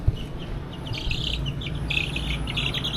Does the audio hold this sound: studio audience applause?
no